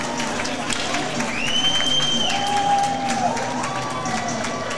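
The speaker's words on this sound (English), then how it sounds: "And the home crowd loving it here as Arkansas takes their first lead of the night." A home crowd at an Arkansas ACHA college hockey game cheers after a goal against Dallas Baptist, a broad, sustained roar with whistles and shouts rising over it, while an announcer talks throughout.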